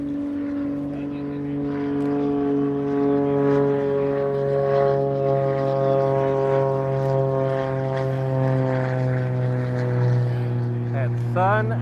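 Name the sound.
propeller airplanes at an air show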